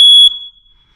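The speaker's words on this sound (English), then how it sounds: "You can go ahead and test your alarm." A Kidde Firex hardwired smoke detector sounds its test alarm: one loud, piercing high beep that cuts off and rings out briefly, heard alone.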